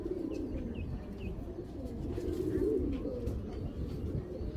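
Pigeons kept as racing birds coo steadily in a low, continuous rolling drone, several birds close by overlapping with no pauses, joined by a few faint higher chirps.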